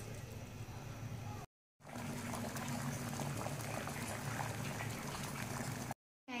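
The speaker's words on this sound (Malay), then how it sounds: "kita masukkan biji durian ni untuk kita rebus" Durian seeds simmer in a pot of water, giving a steady, close bubbling hiss with low rumble that runs throughout, broken only by two short silent gaps.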